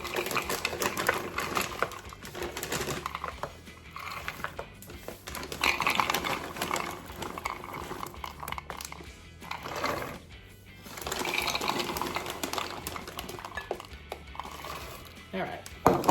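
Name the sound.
grinding nuts for banana nut loaves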